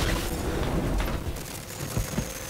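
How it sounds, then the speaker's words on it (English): Fireworks crackle and boom in rapid overlapping bursts inside the South Park: The Stick of Truth video game, a dense, continuous barrage of pops and low thuds with no pauses. "all the fireworks are going off"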